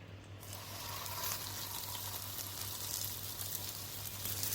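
A cheese-stuffed paratha cooks on a lightly oiled pan over low heat, giving a steady, soft, close sizzle that runs throughout.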